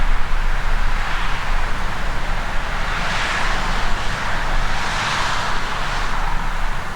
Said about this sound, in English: As you can hear, there's a little bit of traffic from people going to work